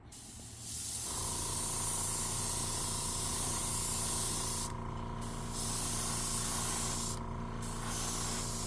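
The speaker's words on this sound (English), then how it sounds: "so let's get to spraying our orange." An airbrush gun at 20 pounds of pressure sprays orange paint onto a Custom Bait Works Level Vib fishing lure, a steady close hiss that starts after a second and briefly dips twice.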